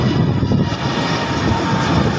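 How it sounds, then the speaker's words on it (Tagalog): Gulf Air passenger airplane passing overhead, a steady loud engine roar that fills the whole stretch without a break and stays near and continuous throughout, with no talk. "Gulf Air yan, laki-laki oh."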